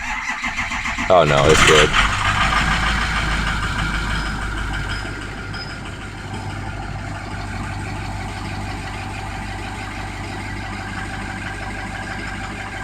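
Vehicle engine with a long-crank starting problem, heard cranking briefly, catching with a loud burst, then settling into a steady, rumbling idle close by, with a short spoken remark near the start.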